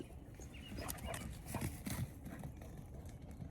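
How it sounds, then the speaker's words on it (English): Dogs bark at a deer in the woods, faint and somewhat distant, in a few scattered bursts over quiet outdoor ambience. "The dogs are going nuts."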